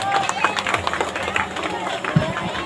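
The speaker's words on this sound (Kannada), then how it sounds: "ನಿಮ್ಮೆಲ್ಲರ ಜೋರಾದ ಚಪ್ಪಾಳೆ ಮುಖಾಂತರವಾಗಿ ಭಗವಂತನಲ್ಲಿ ಆಶಿಸ್ತಾ ಇದ್ದೀನಿ" Loud applause from the audience at a teachers' tribute event at Sri Rama High School in Hosadurga, a dense steady patter of many hands clapping throughout, with voices murmuring underneath.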